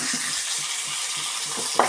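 Onions frying in a pan for a chicken gizzard dish, a steady close sizzle with soft scraping stirs repeating at a slow rhythm and a brief clink near the end.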